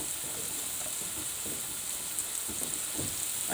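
Chicken pieces stir-frying in a hot frying pan for school-made stir-fried noodles, giving a steady, close sizzle with faint scrapes and stirring pulses throughout.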